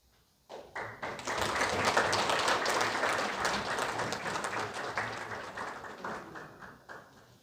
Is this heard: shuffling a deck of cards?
no